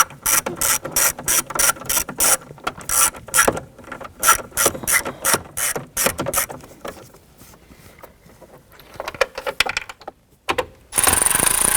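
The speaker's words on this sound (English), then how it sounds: "We're going to use our 9/32 socket and extension with our little ratchet." Small ratchet driving a 9/32 socket on an extension, loosening screws on an instrument cluster of a 1993-1997 Ford Ranger: rapid close clicking bursts repeated in quick runs, pausing and resuming, with no talk.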